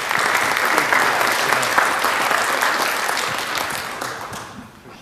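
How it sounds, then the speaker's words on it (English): Dense, steady clapping from an audience at a city council meeting, loud and close at first and gradually thinning and fading toward the end. "So let's give them another round of applause."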